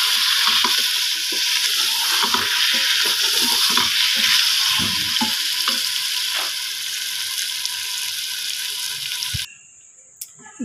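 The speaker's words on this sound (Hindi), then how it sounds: "जब तक ये अच्छे से भून नहीं जाता तब तक मैं इसको भूनती रहूँगी।" Mutton and potato curry fries and is stirred in a pan, a loud steady sizzle with scraping spoon strokes running continuously, then stopping abruptly near the end.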